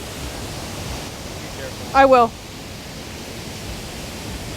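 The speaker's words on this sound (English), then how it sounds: "That's a waterfall." A waterfall rushes in a constant broadband roar that fills the whole scene, with a brief spoken phrase rising over it midway.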